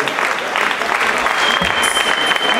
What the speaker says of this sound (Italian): è molto carino questo applauso